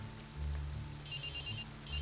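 A phone rings in short bursts over a low steady hum, two electronic trills separated by a brief pause, fairly quiet.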